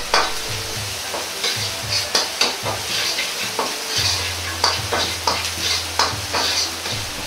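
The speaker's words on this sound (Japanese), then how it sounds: "ここでも豆板醤と薬味をしっかりと炒めることが大切です。" Doubanjiang and aromatics stir-fried in a pan for mapo tofu, with a continuous close sizzle and rhythmic scraping strokes about twice a second and a low hum beneath.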